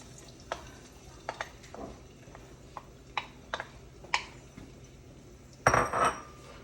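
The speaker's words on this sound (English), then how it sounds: "kind of stir fry it a little bit" Garlic and ginger stir-fried in a pan for sesame chicken: scattered light clinks of a utensil against the pan under a soft sizzle, ending in a short louder scrape and clatter.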